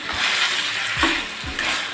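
Chicken being stirred with ginger garlic paste in a hot frying pan: a steady sizzle with three or four distinct scraping strokes of the spoon against the pan, close and fairly loud, no talking.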